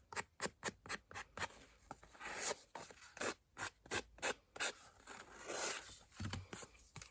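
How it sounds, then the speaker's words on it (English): Sanding block rubbed against paper craft tag corners, a run of short dry scratchy strokes in quick uneven bursts, close and fairly quiet, with brief pauses between passes. "Use an emery board, or I got these sanding blocks."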